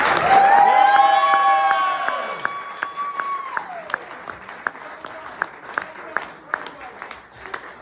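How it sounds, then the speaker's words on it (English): A crowd breaks into loud applause mixed with cheering and whoops. After a few seconds it thins out to scattered single claps, and voices can be heard over it. "Greg Thomas, give me that round of applause"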